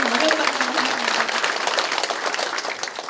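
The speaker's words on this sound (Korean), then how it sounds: "뜨거운 박수 부탁드리겠습니다." Audience applauding at a political candidate's campaign office opening ceremony in Mapo, Seoul; steady, dense clapping from a crowd runs throughout, loud and close, with a voice faintly underneath.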